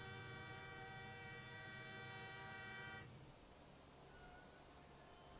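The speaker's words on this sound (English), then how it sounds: "Aggressive train noises in the background." A train horn blares as a loud, sustained, multi-tone blast in a Counter-Strike match, then cuts off abruptly, leaving a low, quiet rumble.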